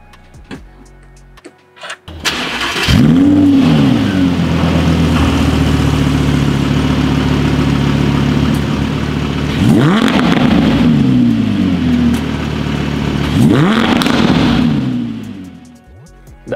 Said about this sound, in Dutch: Een V10 staat natuurlijk bekend om zijn fantastische gebrul.